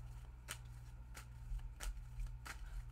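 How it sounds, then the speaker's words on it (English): Tarot cards being shuffled in a quiet room, with four crisp riffling bursts spaced about evenly apart over a low steady hum, soft and close. "They want another shuffle here."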